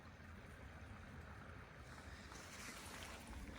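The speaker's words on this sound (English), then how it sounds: "And there is the beautiful Manistee River." The Manistee River in Northern Michigan flows beneath a one-lane backcountry bridge in spring, a steady broadband rush of water with wind, growing slightly brighter and louder toward the end.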